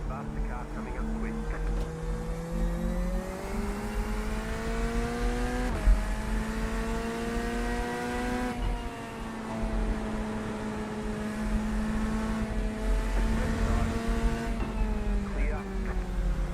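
A faster race car closes in quickly during a multiclass iRacing sim race, its engine tones rising steadily over the steady drone of the player's own car, with a person talking over it.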